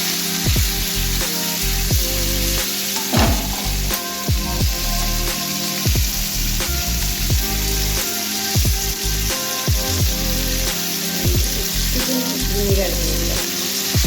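Chili paneer fries in a pan with a continuous loud sizzle, broken by repeated scraping stirs at an uneven rhythm.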